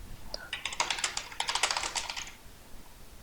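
A name is typed on a computer keyboard as a quick run of close, crisp keystrokes lasting about two seconds before fading into quiet.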